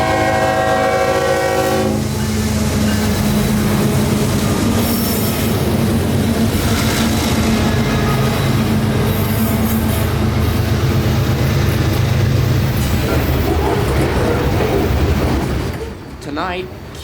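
Freight train Q604 rolls past at night with jumbo covered hoppers of phosphate, empty sulfur tank cars and mixed freight. A loud, continuous rumble and clatter of the cars starts with a horn blast, and someone talks over the train.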